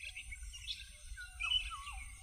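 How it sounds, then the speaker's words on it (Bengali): Birds call at dawn with faint, high chirps and a short rising-falling whistle over a low rumble, all in just a couple of seconds. "ভোরের পাখিদের ডাক"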